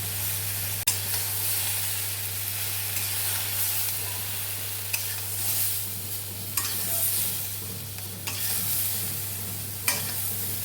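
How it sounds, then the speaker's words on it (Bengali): Dal and rice frying together in a pot for khichuri, a steady close sizzle with a low constant hum underneath and occasional sharp scrapes of stirring, no voices. "ওটার মধ্যে আস্তে আস্তে সব ভাজা হতে থাক একসঙ্গে ডালের যে ভাজাটা সেটা হতে থাক"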